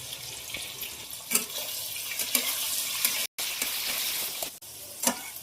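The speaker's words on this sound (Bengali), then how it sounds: "তো আলুগুলো ভাজা হয়ে গেছে, আর এবার উঠিয়ে নেবো।" Small potato pieces sizzle in hot oil with turmeric and salt, a steady crackling fry with a few sharper stirring clatters and two brief dropouts, close and fairly loud with no voices.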